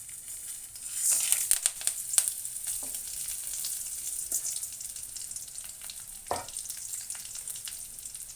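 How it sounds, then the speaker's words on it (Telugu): Tempering spices and green chillies drop into hot oil for onion chutney, bursting into a bright crackling sizzle with sharp pops and spattering that carries on steadily, alongside occasional stirring scrapes. "ఇప్పుడు ఆయిల్ మరిగింది కదా, ఇందులో పోపులు, ఈ సామాన్లు అన్నీ వేద్దామండి. పచ్చిమిర్చి అన్నీ కూడా వేద్దాము."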